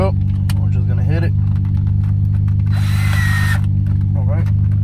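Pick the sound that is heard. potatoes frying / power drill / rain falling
power drill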